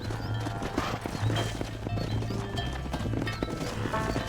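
Horses galloping while herding cattle in the Red Dead Redemption game, dense rhythmic hoofbeats with a snorting whinny, continuous and fairly close, with some voices mixed in.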